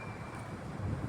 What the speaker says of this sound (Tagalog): Malakas ang hangin, malamig.